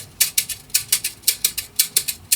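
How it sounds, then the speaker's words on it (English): Afrobeat shaker sample playing a crisp, bright rhythmic pattern of evenly spaced shakes with accented swishes, close and dry, with no other instruments. "this shaker actually works most on any type of Afrobeat"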